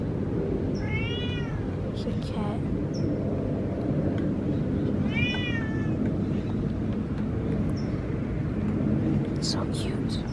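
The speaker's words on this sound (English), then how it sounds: "There's a cat right there." A cat on a treehouse staircase gives two or three short, nearby meows spaced a few seconds apart over a constant low rumble of background noise.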